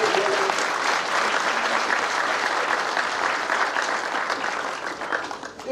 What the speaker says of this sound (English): why don't we clap hands for you?